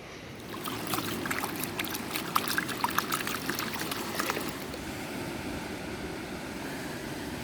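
Water and black sand sloshing in a gold pan on a Lake Michigan beach, a soft watery pour and trickle with faint gritty clicks for a few seconds over steady low outdoor rumble, fading to just the background.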